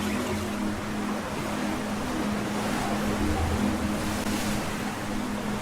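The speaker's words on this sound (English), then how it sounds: "Listen to the ocean." Steady ocean surf rolls on without a break, a broad hissing wash with a low rumble beneath it and a faint tonal hum, unbroken and fairly loud with no voices.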